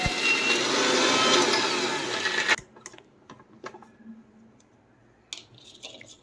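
A kitchen mixer grinder blends green masala for village-style country chicken dum biryani, whirring loud and close for about two and a half seconds before cutting off, leaving faint clicks and handling sounds.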